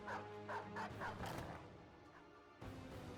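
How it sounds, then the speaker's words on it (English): Dogs bark and snarl in the tactical game Battle Brothers as they maul enemies during combat, a rapid run of close yips and growls over a dense battle din that thins out toward the end. "Unless you really want to see some dogs maul some people."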